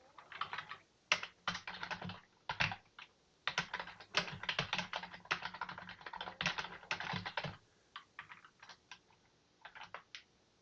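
Computer keyboard typing out a code comment, a brisk run of close, clicky keystrokes in irregular bursts with short pauses, then a sparser stretch of taps near the end.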